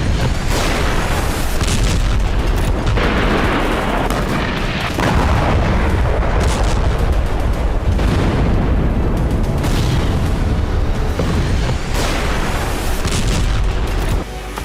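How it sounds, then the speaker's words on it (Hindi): Continuous barrage of explosions and booms from a Ukrainian drone attack on a Russian oil depot in Krasnodar, loud and dense throughout with repeated heavy blasts and crackling bursts and no talk. "जहां यूक्रेन ने ड्रोन अटैक कर रूसी ऑयल डिपो को तबाह कर दिया।"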